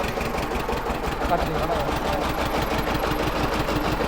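A DT 14 tractor with power steering runs its engine in a steady, rhythmic chug close by, continuous throughout while voices talk over it.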